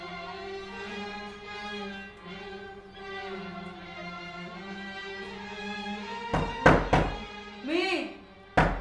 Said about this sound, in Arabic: مين اللي خبط؟